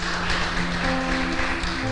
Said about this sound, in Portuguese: Se você recebe, dê um aplauso ao Senhor